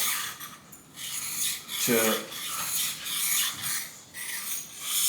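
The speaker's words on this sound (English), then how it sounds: "I'll start on the 400. The first thing I do with these is I go on the back side, the long side, and just give them a couple of strokes" A jointer blade stroked on a 400-grit sharpening stone: close, gritty scraping strokes repeat in an uneven back-and-forth rhythm, each a short rasping swipe, with no talk over them.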